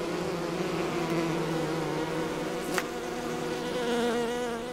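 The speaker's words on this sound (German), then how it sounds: "Hey, ihr seid ja schon laut, ihr Bienen." Bees buzz in the Enderal video game, a steady close droning hum with layered wingbeat tones and slight swells in pitch, continuing without a break.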